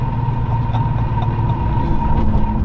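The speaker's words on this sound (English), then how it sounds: "The sound of this engine." A turbocharged 600 hp Toyota Supra engine idles hot with a deep, steady rumble and a constant hum, loud and close, with no voices.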